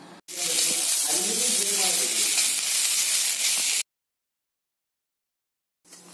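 Grated coconut roasting in a pan for a curry, a loud steady sizzle and hiss close up for several seconds with faint voices underneath, then an abrupt cut to silence.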